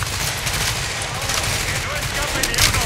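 Rapid gunfire crackles in repeated bursts during a firefight in Tom Clancy's The Division, continuous and fairly loud, with a voice speaking over the shooting.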